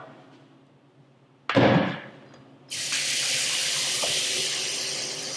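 A brief clunk comes first, then filtered tap water from under the sink rushes into a measuring cup. The bright, steady pour continues loudly to the end, with no talking.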